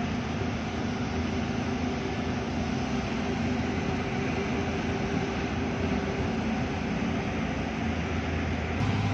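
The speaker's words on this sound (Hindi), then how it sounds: "गार में गाड़ी चलती है" A Suzuki Bolan van with a failed fuel pump and CNG system drives through a long motorway tunnel in Hazara, producing a steady, enveloping road and engine roar that stays constant throughout.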